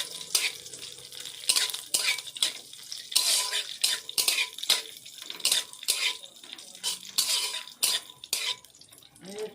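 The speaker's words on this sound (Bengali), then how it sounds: "কাজু বাদামগুলো ভাজা হয়ে গেছে এবার আমি তুলে নিচ্ছি" Broken cashew nut pieces fry in a pan while a utensil repeatedly stirs and scrapes, giving rhythmic clattering bursts over a low sizzle, close and fairly loud.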